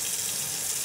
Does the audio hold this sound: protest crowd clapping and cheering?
no